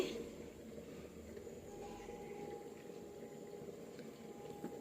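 Cooking oil goes into a pan on the stove with a soft, bubbly liquid sound, faint and continuous with light gurgling and small clinks near the end.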